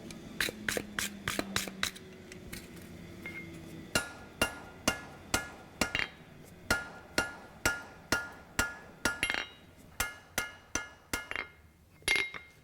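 A hammer strikes a coil spring center punch on an anvil in a steady run of sharp, ringing metallic blows, quick at first and then evenly spaced, with no talking.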